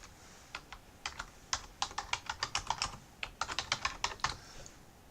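Typing on a computer keyboard while editing subtitles: irregular bursts of crisp key clicks, quick runs of strokes with short pauses, close and clear with no talking.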